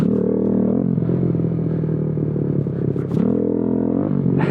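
A Kawasaki Z125 motorcycle holds full throttle in first gear during a power wheelie, giving a steady, close, buzzing engine drone that dips briefly partway through and then picks back up.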